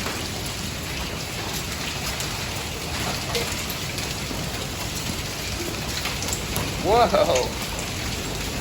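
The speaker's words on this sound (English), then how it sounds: "Yeah, it's storming." A heavy rain and hail storm pours down outside in a dense, steady roar that swells briefly near the end, with a voice exclaiming once over it.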